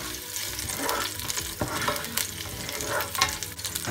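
Garlic and chili sauté in hot olive oil in a pan, with a steady close sizzle and frying crackle broken by occasional stirring scrapes.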